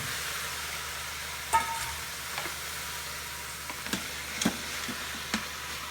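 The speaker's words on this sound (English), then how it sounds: "So let these onions heat up, get them a little bit soft. We're gonna go ahead and add the short ribs that we cut up." Onions and cut short ribs sizzling in a pot for macaroni soup, a constant frying hiss broken by a few clicks and scrapes of stirring, with no voices.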